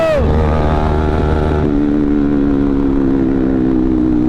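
Yamaha R15 V3 and Bajaj NS200 motorcycles race at speed, with a loud, close engine drone and a rising, shifting pitch as they accelerate. Wind rush runs throughout and no one speaks.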